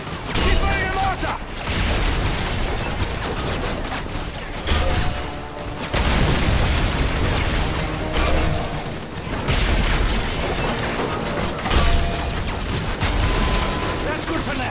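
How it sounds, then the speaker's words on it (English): Mortar shells pound a hostile village in Call of Duty: Modern Warfare 3, with repeated heavy booms and rumbling blasts layered over continuous gunfire and battle noise, loud and close, with brief lulls between volleys. "If it moves, put a mortar shell on it."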